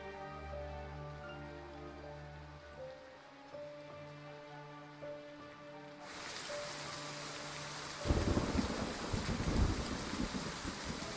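Stormy night in the game Identity V: a sustained music tone fades into a broad rush of heavy rain and wind that swells louder near the end, steady and enveloping.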